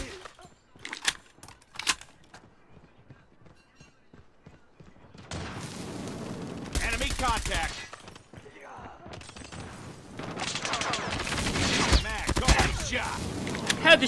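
Gunfire in a Call of Duty match, scattered sharp shots at first, then dense bursts of rapid fire and impacts swelling louder toward the end, mixed with excited talk.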